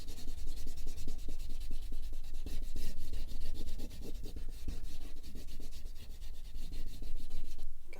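A crayon scribbles over paper, filling in a pie-shaped section of a rainbow jellyfish drawing: close, continuous scratchy rubbing in quick back-and-forth strokes, with no voices.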